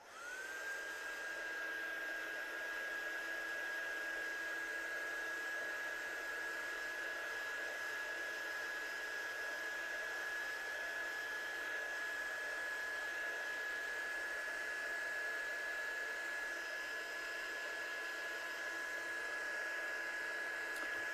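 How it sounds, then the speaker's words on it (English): A heat tool runs steadily and loudly, drying ink on a rubber stamp during a stamping and ink-blending session: one continuous blowing whir with a fixed whine, alone and unbroken throughout. "I'm just going to dry this off very quickly."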